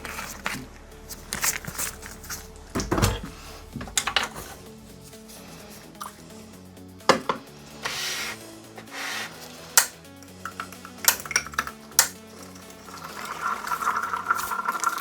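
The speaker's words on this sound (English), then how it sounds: "I will add water to 40 milliliters mark." Water is added to iron sulfate up to a 40 ml mark, giving small drips and splashes with scattered clinks of glassware, close and fairly quiet.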